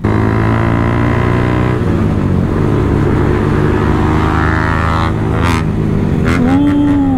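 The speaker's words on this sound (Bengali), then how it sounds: "ভাই কি সাউন্ড দিচ্ছে ভাই গাড়িটা।" A modified Yamaha R15 motorcycle engine drones loud and close through a friendly street race, holding a steady roar before the revs shift and climb near the end.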